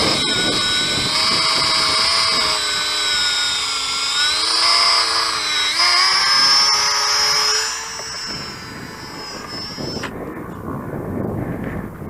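A small RC biplane motor at reduced throttle makes a steady, loud, buzzing whine that drifts slightly in pitch, then fades and thins out toward the end as the model flies away.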